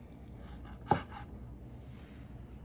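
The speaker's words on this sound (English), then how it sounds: "But I'm cutting this thin and at a slight angle." A knife slices beef thin at a slight angle, giving one soft, close knock on the cutting board in an otherwise quiet kitchen.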